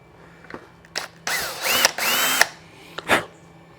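A power drill bores holes in a Honda VFR800 motorcycle part during a custom lighting build, several short, close whirring bursts and one longer grinding run separated by brief pauses.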